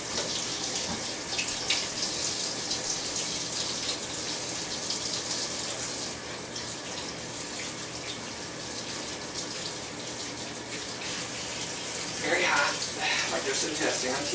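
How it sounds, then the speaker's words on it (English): Water running steadily from a tap while hands are scrubbed, a continuous close broadband rush with slight shifts as the hands move under the stream; a voice talks faintly in the background. "time to scrub hands and make sure my hands are clean before touching anything"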